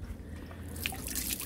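Cold tap water runs and drips into a basin while hands are washed, a close, steady splashing trickle with brief brighter drops.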